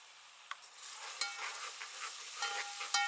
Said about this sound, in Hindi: अदरक लहसुन भुन चुका है